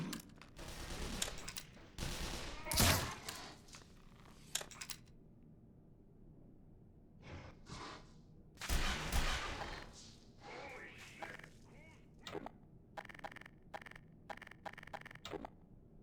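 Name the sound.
gunfire in a video game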